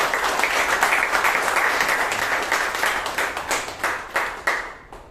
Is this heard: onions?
no